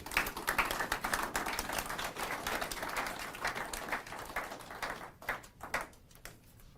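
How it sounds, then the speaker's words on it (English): An audience at a Louis Riel commemoration applauds a minister and a president, dense clapping running for several seconds before breaking into a few scattered final claps. "let's give a round of applause to Minister Anita Campbell and to our President"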